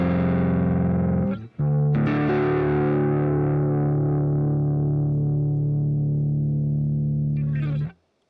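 An electric guitar chord rings out through a heavily saturated tone on a Positive Grid Spark 2 amp, cut off briefly after a second, then struck again and sustained until it fades.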